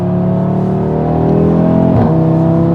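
A Honda Civic Type-R and an Audi RS3 accelerating from 0 to 60 give a loud, close engine drone whose tone climbs steadily, then dips briefly at a gear change before rising again.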